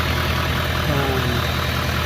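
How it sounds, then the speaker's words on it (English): A car engine idles steadily and evenly up close, a smooth continuous hum with no revving and no talking. "Way better idle. I just noticed that right off the bat."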